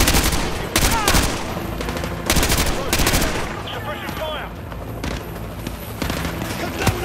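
Video game gunfire during a hostage rescue mission. Loud, rapid automatic bursts and volleys come in several clusters, with echoing tails and brief lulls between them.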